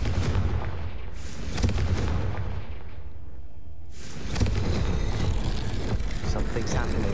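Confringo blasting spells from Hogwarts Legacy go off as heavy, booming blasts, one near the start and a larger rumbling burst later, over a continuous dark, noisy background.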